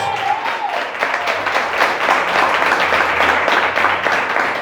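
A congregation applauds with both hands during a church sermon on storms, a dense, continuous wash of clapping with a faint voice or music tone underneath, loud and sustained throughout.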